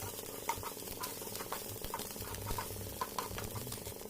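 Squid sizzling and crackling in a frying pan with onion and garlic, a steady bubbling hiss dotted with small sharp pops, close and alone without speech.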